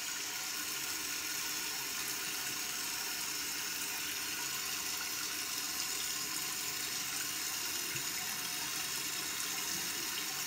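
Tap water running steadily into a bathroom sink while a face-cleansing brush is rinsed, a constant close hiss and splash lasting throughout with no talking over it.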